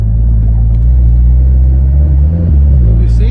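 A 500 bhp VW Golf R cruising in Eco mode gives off a steady, loud low engine rumble with a slight dip and wobble partway through, and a voice talks over it.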